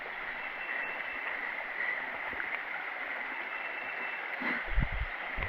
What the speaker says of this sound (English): A gorgeous waterfall right there.